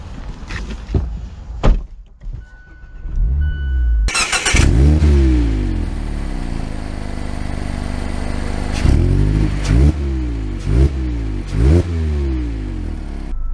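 A 2023 Mazda Miata RF with a manual gearbox starts moving, its engine revving up through several gears in repeated rising pulls heard close from inside the cabin, preceded by a door thunk and small handling clicks.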